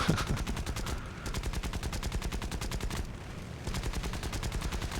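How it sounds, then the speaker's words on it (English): Rapid, steady bursts of an aircraft's rear tail gun firing in War Thunder while a Hurricane is chased, the machine-gun rattle loud and continuous with two brief lulls. "my tail gun has opened up on some"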